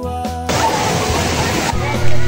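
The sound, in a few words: overflowing water flowing toward irrigation channel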